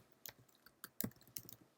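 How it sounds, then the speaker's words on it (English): A web address typed on a computer keyboard, heard as a handful of quick, irregular key clicks, close and quiet, with no talk. "In Google search box, type in phschools.com"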